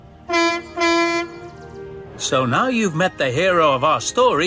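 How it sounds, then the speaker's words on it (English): Horn of a dark blue diesel-electric shunting engine in a Trainz railway simulation: two loud steady honks in quick succession, followed by a narrator speaking. "Sidney has a horn that sounds like this."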